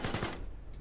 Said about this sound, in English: That's the main 25mm cannon.